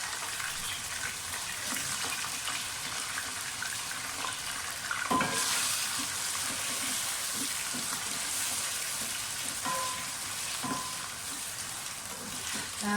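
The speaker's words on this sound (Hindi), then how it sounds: "चिकन डालूंगी, चिकन को थोड़ा सा फ्राई करूँगी।" Chicken pieces fry in hot oil in a pot for palak gosht, a steady loud sizzle running throughout with a sharper surge midway and occasional stirring scrapes.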